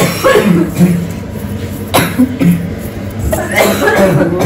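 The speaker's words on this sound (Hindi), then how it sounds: "खांसी हो रही है" A few sharp, close coughs spaced out over several seconds, with a throat clear in between.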